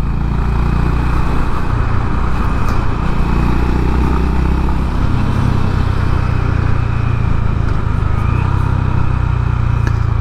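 A Honda CB 350 H'ness motorcycle rides on in fifth gear with a steady, loud engine drone and low rumble, plus wind noise, continuing without break throughout.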